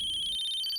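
A phone rings with a steady electronic tone, a bright sustained ringtone filling the short moment with no talk.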